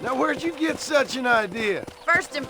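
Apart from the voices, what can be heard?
No everyday noises stand out.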